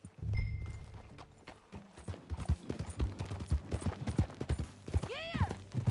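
Horse hooves clip-clop in a steady, lively rhythm in the Red Dead Redemption II video game, close and clear, with a brief neigh near the end and a faint voice early on.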